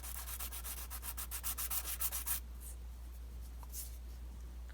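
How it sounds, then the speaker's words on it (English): Fine 1000 grit sandpaper passed lightly over a small plastic dashboard piece for a Tamiya Bruiser or Trailfinder 2 scale model, giving quick rhythmic rasping strokes for a couple of seconds before fading to near silence, very faint and close. "I'm going to take some 1000 grit sandpaper and hold it as flat as I can and very lightly set that on top and just pass it."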